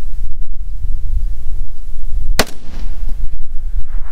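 A single sharp rifle shot firing PMC Bronze 55 gr ball ammunition at an outdoor range, one loud close crack midway with a brief tail, over wind noise.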